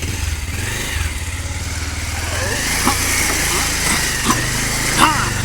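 Motorbike driven across a road near Chikhale Falls close to Belagavi, its engine droning and revving steadily up close while voices talk over it.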